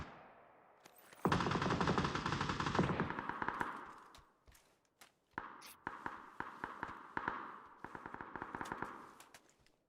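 Gunfire in the video game PUBG, heard close, opening with a dense burst of rapid shots, then a scattered string of sharp cracks and quick volleys, with no talk.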